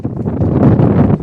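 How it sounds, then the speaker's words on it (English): Gusty wind buffets the microphone at a college softball field during a game, a loud, steady broadband rush that swells and dips over about a second with no talk. "I'm sure you can hear the wind is just gusting here at Brevard College softball field."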